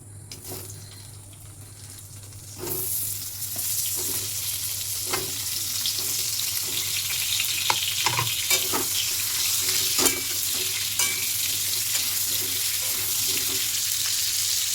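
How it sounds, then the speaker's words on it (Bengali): Pointed gourd (potol) sizzles steadily in hot oil in a pan, a continuous bright frying hiss that swells after a quieter start, with occasional clinks and stirring scrapes. "তেল দিয়ে আমি পটলটা ভেজে নিচ্ছি।"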